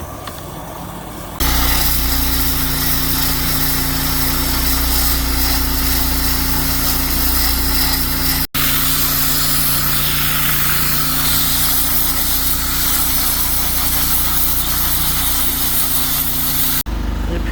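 A high-pressure sprayer shoots eco-friendly evaporator cleaner into the A/C evaporator of a Hyundai Sonata, producing a loud, steady hissing roar with an engine-like drone that runs nearly unbroken, with a brief cutout midway.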